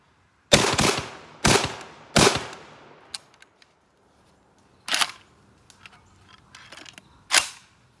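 Sharp airsoft shots from a JTS M12 AK replica: three loud reports in quick succession, then a pause and a couple more single shots, with faint clicks and handling noises between them.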